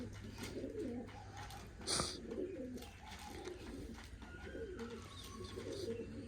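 Pigeons coo in soft repeated throaty phrases, close by, with a brief sharp knock midway and a low background hum.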